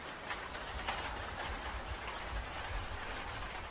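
Light rain falling steadily on a surface, a soft, even patter with faint drips, quiet and continuous with no voices.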